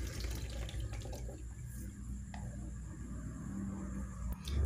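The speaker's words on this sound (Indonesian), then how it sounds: "Kemudian ini kita tiriskan." Water from soaked potato strips for french fries drains and pours away in a steady, soft trickling splash heard close by, with no talking.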